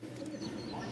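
Pigeons coo softly in a pigeon loft where birds are kept for sale, low murmuring calls running steadily throughout, quiet and close.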